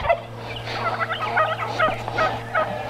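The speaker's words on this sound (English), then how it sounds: "Hey, roosters." Poultry on a homestead farm calling, turkey-like gobbles and fowl clucks repeating in bursts over a steady low hum, fairly close and moderately loud.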